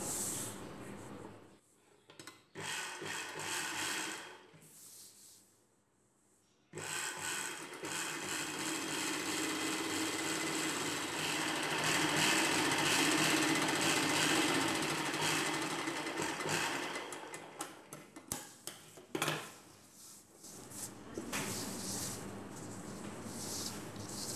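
A sewing machine joins the two side ends of a lining piece for an Anarkali dress, running in long, steady whirring stretches with brief pauses and a short stop, close and fairly loud.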